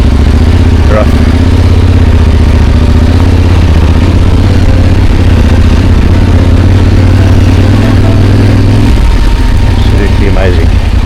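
Motorcycle engine running steadily up close on a rough nature reserve trail, a constant low rumble with a brief shift near the end, wind buffeting throughout.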